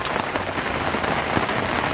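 Heavy rain drums onto a boat, a dense, continuous patter with sharp individual drop hits, close and fairly loud, with no voices.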